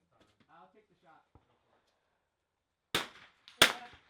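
Two sharp, close rifle cracks ring out about half a second apart at an NRL22 precision rimfire match. Each crack has a short tail, and brief quiet talk comes before them.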